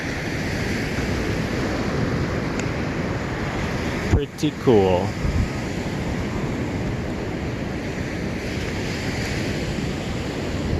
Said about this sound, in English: Not sure how loud those waves are